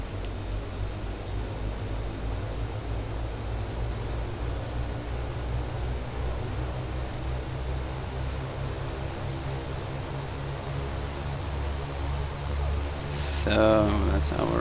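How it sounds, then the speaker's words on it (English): Twin turboprop engines of a Beechcraft King Air 200 in a flight simulator game, a steady droning hum with layered harmonics that holds evenly throughout, then a brief rising tonal sweep near the end. "So that's our engines running nice and smoothly."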